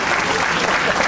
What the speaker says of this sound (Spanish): Un aplauso para la mamá del compañero y tu proceso evolutivo.